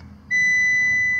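A 2014 Fiat Strada Adventure 1.8 16v double cab dashboard chime sounds as the ignition switches on: one sustained, clear electronic beep starting after a short quiet lead-in and holding steady to the end.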